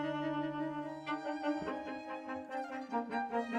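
An isolated cello track taken from a single-microphone recording of an ensemble, bowed sustained notes with rich harmonics changing pitch a few times, clear and alone.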